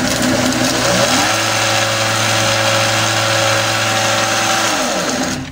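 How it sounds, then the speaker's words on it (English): A workshop belt and disc sander starts up, its motor rising in pitch over about a second, settling into a steady loud hum, then beginning to wind down near the end. "And this machine, sanding belt and disc at the end."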